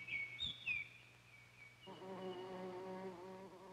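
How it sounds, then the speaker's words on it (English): A bee buzzes at an iris flower, a steady close droning hum with bird chirps faintly heard over it early on. "A bee has to crawl deep into the flower in order to get the nectar."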